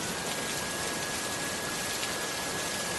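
Heavy torrential rain pours down in a steady, dense roar that holds even and loud from start to finish, with no voices over it.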